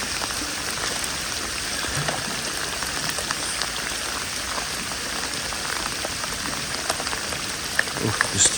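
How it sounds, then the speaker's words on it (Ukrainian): Steady heavy rain pours down at a fishing spot, a dense continuous hiss of drops striking water and surfaces, with a few louder splashes near the end. "Да, дощик знатний."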